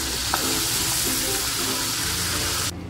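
Pieces of salted fish fry in hot oil in a wok, a steady close sizzle and crackle that runs on evenly before cutting off sharply near the end.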